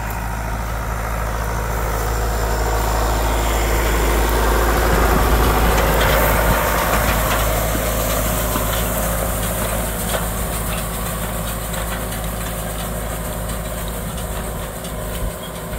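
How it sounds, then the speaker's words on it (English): A 310 baler works through single rows of rye straw in a field, a steady loud mechanical drone with a deep engine rumble underneath, continuous and close throughout with no talk. "I bale with a 310 baler"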